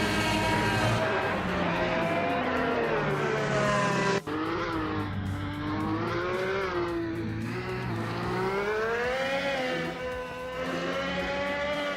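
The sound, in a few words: race cars overtaking in a racing video game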